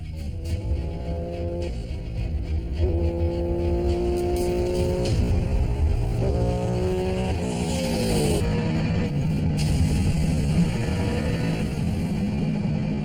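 A streamliner motorbike on a high-speed land-speed run, its engine struggling to rev cleanly, drones loudly with wavering, stepped pitch rising and falling over a constant rushing roar of wind and motion.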